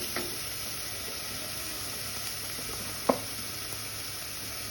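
Onion dry-frying in a pan with no oil, a quiet steady sizzle with a few soft clicks of a spatula, one sharper tap near the end, no voices.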